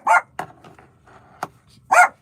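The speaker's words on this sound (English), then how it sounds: "is why she's barking" A small dog barks at home in short sharp yips, two loud ones at the start and end with softer whimpering sounds and a couple of quick clicks in between.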